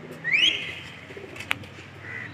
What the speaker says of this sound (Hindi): 30-35 कबूतर उड़ा दिए हैं भाई ने,